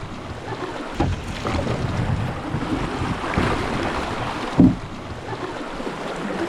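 A canoe runs shallow river rapids in low summer water, a continuous rushing wash of water and wind with a few hollow knocks and bumps against the hull, one louder thud near the end.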